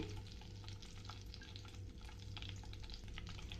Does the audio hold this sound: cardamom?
yes